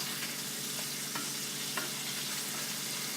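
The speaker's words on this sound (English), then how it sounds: "So we've got the start of the bacon browning." Bacon browns in a pan with a dense, even, crackling sizzle that holds steady throughout, close up with no voices.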